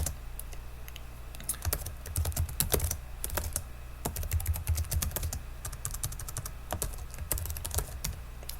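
Close computer keyboard typing as a shortcut is pressed: a quiet series of quick, crisp key clicks in irregular bursts, heard alone with no talk.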